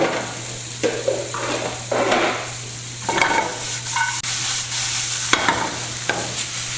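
Browned onions, carrots and celery sizzle steadily in a pan for a pot pie, tossed around with repeated scraping and clattering strokes over a continuous close fry, with no talking.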